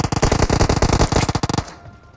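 Rapid automatic gunfire in the video game PUBG Mobile, a loud close burst of about twenty shots over a second and a half that then stops abruptly, with no talk.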